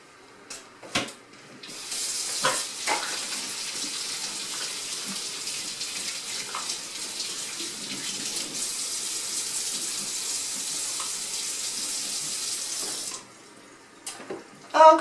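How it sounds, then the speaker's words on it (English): A kitchen water tap runs while hands are washed before cooking lasagna: a steady, loud rushing stream lasting about eleven seconds, with brief clatters and splashes just before and after. "let me wash my hands and we'll get started."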